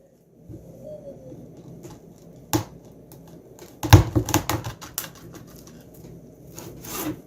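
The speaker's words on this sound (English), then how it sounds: "And then I just cut it in half." A knife cutting rabbit meat in half on a wooden board for stew, with a few sharp knocks against the wood, a short cluster of chopping thuds midway and one more knock near the end, close and quiet.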